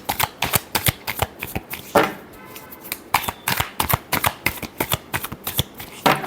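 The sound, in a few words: shuffling tarot cards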